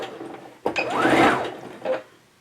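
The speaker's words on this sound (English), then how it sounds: "Now I'm up to where my pins are, so I'm going to back stitch." A sewing machine running a short back stitch on a summer top, with a sharp mechanical start and a rising then falling whir lasting just over a second, ending in a brief clunk, close and clear with no talking.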